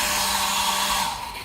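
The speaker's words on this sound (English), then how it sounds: "Note, this is not the strongest hairdryer" A small, weak hair dryer in a cruise ship balcony cabin on the Carnival Venezia blows steadily with a thin whirring hiss, running continuously at close range and easing off slightly near the end.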